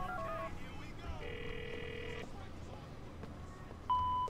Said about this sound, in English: Phone book. Let's call Vlad.